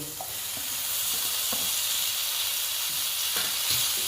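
Potatoes go into a frying pan with loitta shutki (dried Bombay duck), producing a steady, close sizzle with a few light stirring knocks and no talk.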